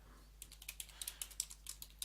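Quick keystrokes on a computer keyboard as a terminal package-manager command is entered, a dozen or so soft, close clicks in an uneven rhythm over a faint steady hum, with no talking.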